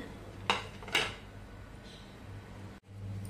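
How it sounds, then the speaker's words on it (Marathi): A mixer grinder jar is set down on a kitchen counter while chutney ingredients like wet coconut are gathered, giving two sharp, close clinks about half a second apart over a quiet room hum. "इथे मी मिक्सरचं भांडं घेतलंय, ओलं खोबरं घालूया।"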